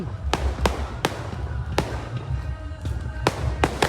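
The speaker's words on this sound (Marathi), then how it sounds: "हे बघा फटाका फुटता" Firecrackers bursting at a village palanquin festival for Hanuman Jayanti, a rapid irregular string of sharp crackling pops, about eight loud snaps over a noisy outdoor crowd background.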